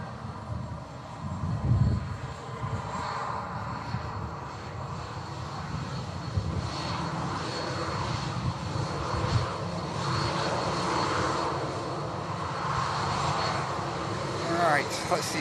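An aircraft goes around at Manchester Airport, its engines a broad steady roar that rises and lingers at a distance, with a person talking over it throughout.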